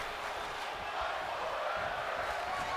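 Arena crowd chanting in a WWE 2K23 wrestling match, a steady broad roar of many voices sustained throughout at moderate level with a faint rhythmic swell.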